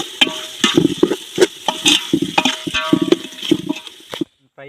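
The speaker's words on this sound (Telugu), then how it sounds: "కారం వేసుకున్న తర్వాత మొత్తం బాగా తిప్పుకోవాలి" Chicken fry for village-style biryani stirred after chili powder goes in: a spoon scrapes and clatters around the pan in quick irregular strokes over a soft sizzle, close and fairly loud, ending abruptly.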